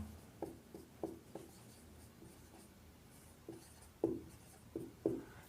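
Chalk or marker strokes on a classroom board during a lecture, a series of short scratchy taps and scrapes in irregular rhythm, moderately near, heard alone with no talk.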